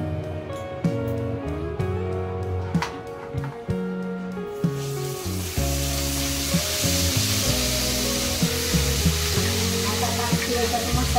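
Whole spices, turmeric and poppy seeds hit hot oil for a tempering and set off a loud, steady sizzle that starts partway through, with background music playing throughout.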